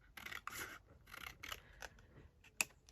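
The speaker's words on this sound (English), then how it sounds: "So I'll just trim it off here." Scissors trimming fabric close up, a series of short snipping and rubbing cuts in an uneven rhythm, quiet and alone.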